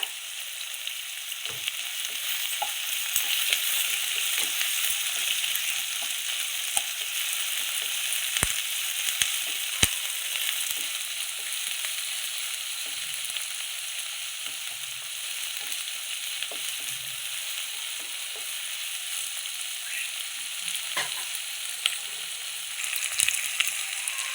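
Onions sautéing in a pan with curry leaves for pepper chicken fry produce a long, steady hiss of frying, with scattered faint crackles and occasional light spoon taps throughout, close and even.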